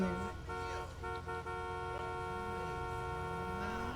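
A steady, sustained car horn tone in the video game GTA 5 sounds continuously throughout, with layered harmonic pitches and faint background noise beneath.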